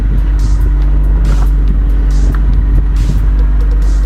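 A car being run at a Copart auction lot idles quietly and steadily, a low smooth engine rumble continuing evenly with no one speaking.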